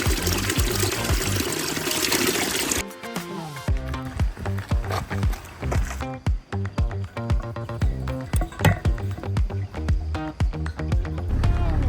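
Water pours and trickles steadily at first, then comes as a run of splashy, gurgling bursts, close by, like a bottle or container being filled, while refilling a water supply on a trip near Belogradchik, Bulgaria.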